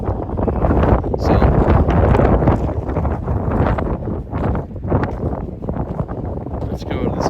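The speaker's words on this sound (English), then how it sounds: "Yes, it is super windy out here." Strong gusty wind at Goblin Valley State Park, Utah, roaring across the microphone in loud buffeting surges, with a person talking beneath it.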